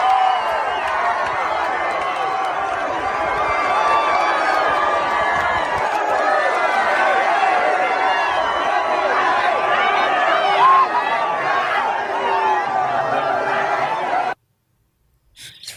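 A large crowd chatters at an outdoor event where hats are thrown out to people, a dense, steady murmur of many voices that stops abruptly near the end.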